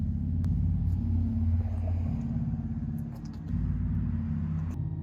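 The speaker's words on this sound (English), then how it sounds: "It's like a rumbling. Like yeah. This alien-esque rumbling." A 2020 Porsche Taycan Turbo's electric sport sound is heard close by as a deep, heavy rumble that swells and steadies, dips briefly, then returns, with occasional light clicks over it.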